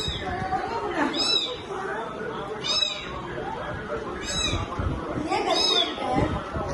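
A cat meows repeatedly, with several drawn-out cries close by amid the noisy chatter of children playing and talking.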